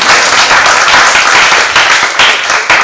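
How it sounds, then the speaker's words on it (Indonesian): An audience at an election literacy training session bursts into loud, sustained applause, a dense wash of many hands clapping close by without pause. "Tepuk tangan untuk kita semua."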